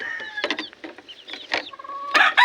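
Backyard chickens cluck and squawk in a quick series of close, clear calls, with short gaps and a louder burst near the end, no talk.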